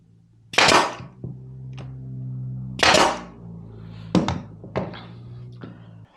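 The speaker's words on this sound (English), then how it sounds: "you guys will see me holding my air nailer up and down" A pneumatic air nailer driving nails into wood for a Christmas nesting-tree woodworking project: several sharp, loud thunking shots, two big bursts then a quicker cluster, each with a short hiss, over a steady compressor hum.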